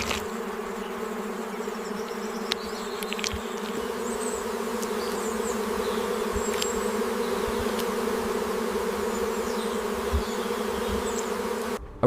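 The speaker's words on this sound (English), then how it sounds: "But now, Mellivora must face the wrath of the African honeybee colony." An African honeybee colony swarming in the open, a dense continuous buzzing drone that holds steady throughout, with a few faint clicks and no voices.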